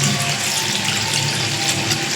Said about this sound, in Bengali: এখানে অল্প একটু জল নেব